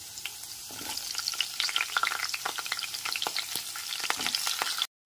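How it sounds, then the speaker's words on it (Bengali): Potato and cauliflower pieces sizzle in a pan as they are stirred, a dense crackling fry with frequent quick scraping strokes, then an abrupt cut to silence near the end. "আলু আর ফুলকপির টুকরোগুলো একটু নাড়াচাড়া করে নেওয়ার পর"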